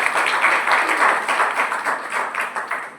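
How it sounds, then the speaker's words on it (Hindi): An audience bursts into strong applause in honor of chartered accountant Arun Bhargava and others. Close, lively clapping with a pulsing texture gradually eases off over a few seconds. "जोरदार ताली उन लोगों के लिए,"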